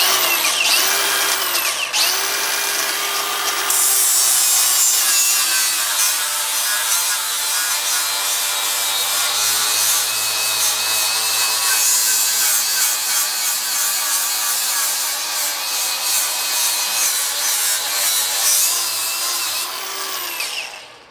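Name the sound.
Milwaukee cordless grinder grinding with Norton Blaze 36 grit wheel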